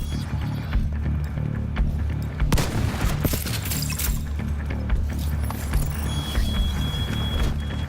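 Shotgun blasts and gunfire in the shooter Tom Clancy's The Division 2, loud booming shots scattered through a busy, noisy firefight with clattering effects and no talk.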